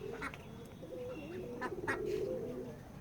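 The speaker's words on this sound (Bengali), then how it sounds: "আমাদের এই খামারে পাতি হাঁস অথবা চিনেল হাঁস আছে।" Pati and chinel ducks at a duck farm quack steadily in a fairly faint, continuous chorus, with a few higher calls standing out and no voices.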